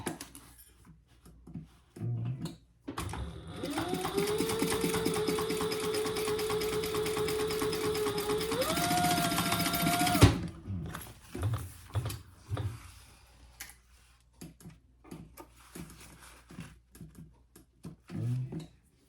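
A sewing machine basting fabric pieces for a zippered pouch, running in one steady whirring stretch that speeds up near the end, with light clicks and handling noises before and after.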